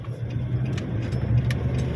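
Steady low engine rumble of road traffic at an Australian intersection, cars idling and moving nearby with a continuous drone and slight swells as vehicles pass, no talking.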